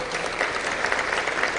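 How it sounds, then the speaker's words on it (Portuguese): A crowd at a Catholic Charismatic Renewal jubilee tribute applauds Deputy Mauro Pereira with a continuous, even burst of clapping that sounds full and steady. "quero pedir uma salva de palmas para o deputado Mauro Pereira"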